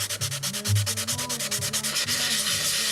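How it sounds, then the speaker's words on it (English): Dry sanding across the tail of a model plane where decals had been, a steady rhythmic scrubbing with quick back-and-forth strokes, close and clear. "I've been trying to dry sand that area until a decal is"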